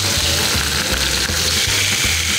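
Ginger and fish fry in a hot wok, giving a loud, steady sizzle close up, with a rhythmic low churning pulse running underneath throughout.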